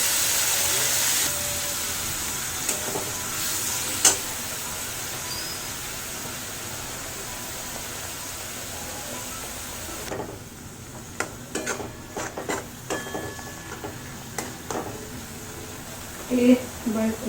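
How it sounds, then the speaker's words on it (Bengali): Tomatoes added to mushrooms frying in a pan, a steady hiss that drops off partway through, followed by irregular clinks and scrapes of stirring, close by. "এতে অ্যাড করবো টমেটো,"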